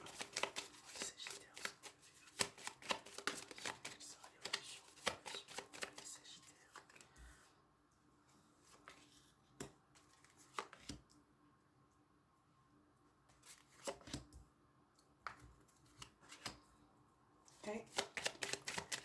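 Tarot cards being shuffled and laid out on a table make bursts of rapid riffling and soft slaps, close and fairly quiet, with short pauses between bursts and someone speaking French in between.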